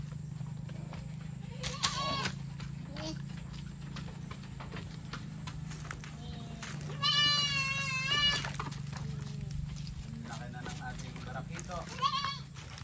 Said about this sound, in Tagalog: pasilip din sa ating mga kambing